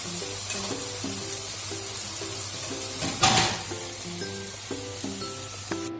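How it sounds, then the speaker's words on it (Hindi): Masala for chappan kaddu sabzi fries in oil over high heat while being stirred, a steady close sizzle with one louder scrape and splatter midway, under light background music. "अब तेज़ आंच पे हम तब तक इसको भूनेंगे जब तक ऑयल अलग नहीं हो जाए मसाले से"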